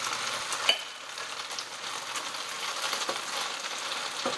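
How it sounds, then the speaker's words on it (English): Food sizzles gently and steadily in a pan in a home kitchen, a soft, even crackle with a few faint clinks and scrapes. "A nice gentle sizzle, so it browns and cooks at the same time is what we're looking for."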